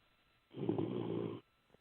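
A caller snores over a phone line, one faint, muffled rasping inhale lasting about a second amid quiet.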